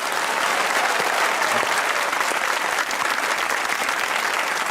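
Studio audience at a Pakistani comedy talk show claps loudly and continuously, a thick even roar of many hands sustained across the whole stretch with no speech over it.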